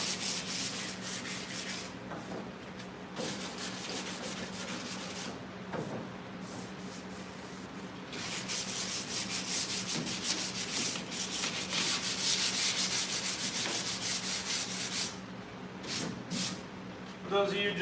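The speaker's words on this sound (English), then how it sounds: "you are watching me block sand the dash on a 1958 Chevy Apache." Steady rubbing scrape of a sanding block worked across the dash of a 1958 Chevy Apache pickup, continuous strokes close up that swell louder midway, with a low hum underneath.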